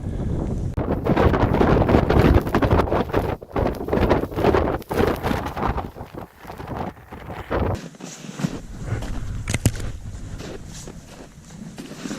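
Strong wind buffets a microphone on a snowy mountain climb over loose, powdery ground. Loud roaring gusts rise and fall throughout, with a brief lull before the rushing resumes.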